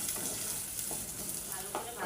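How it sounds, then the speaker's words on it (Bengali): Onions fry in a pan until browned, a steady soft sizzle and crackle with light stirring scrapes throughout, fairly quiet and close. "পেঁয়াজগুলো আমি একেবারে বাদামি কালার করে ভাজা নিব।"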